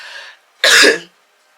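A single short, harsh cough, loud and close, following a brief breathy sound, then silence.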